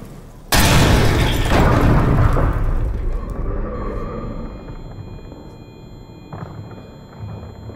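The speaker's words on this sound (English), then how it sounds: "That was a lot of explosions for what I expected to be one." Explosions in the horror video game Amnesia: The Bunker: a sudden loud blast with a long rumbling tail, then several further thuds and booms fading away, and a smaller burst a few seconds later.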